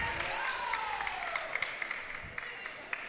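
A crowd applauds and cheers at a women's basketball game during a stoppage, a moderate sustained clapping wash with scattered sharper claps, under commentators' talk.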